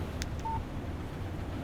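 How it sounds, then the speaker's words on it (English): A phone text message alert in the video game Alan Wake Remastered gives a single short, faint electronic beep over a low steady background hum. "Text message from Barry."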